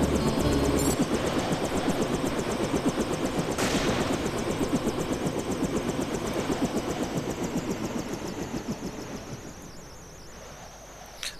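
A video game helicopter in Deus Ex (PC, Revision version) gives a loud, rapid, chopping rotor beat that pulses evenly and slowly fades toward the end, heard alone without talk.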